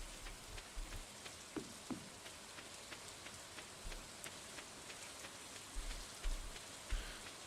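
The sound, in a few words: rain in the video game Stardew Valley Expanded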